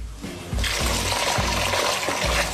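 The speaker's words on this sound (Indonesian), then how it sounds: "Sekarang kita siram sagunya." Hot water poured onto sago starch in a bowl to make papeda, a steady loud splashing pour that starts abruptly after a brief pause and runs continuously to the end, with soft knocks underneath.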